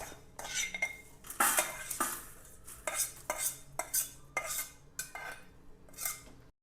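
Roasted spices scraped and scooped from a pan with a metal spoon, a run of close, sharp clinks and scrapes in an uneven rhythm, with no talking.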